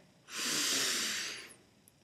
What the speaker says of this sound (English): Close your eyes and breathe deeply.